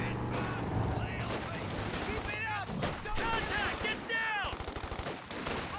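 Rifle shots from a video game battle pop repeatedly among scattered small-arms fire and whizzing sounds, moderately loud, with a commentator's voice running over the action.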